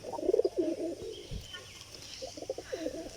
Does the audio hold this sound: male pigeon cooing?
yes